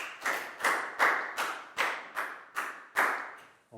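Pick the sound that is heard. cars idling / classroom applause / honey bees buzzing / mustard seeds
classroom applause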